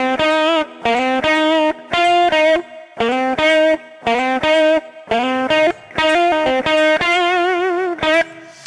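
A distorted electric guitar plays a riff of short chopped bursts with hammer-ons and pull-offs in a stop-start rhythm, loud and close with a chorus-like shimmer.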